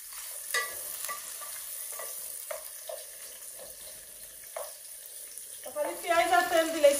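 Onions frying in oil sizzle softly, with a run of stirring scrapes and clicks against the pan. Louder, busier stirring comes near the end.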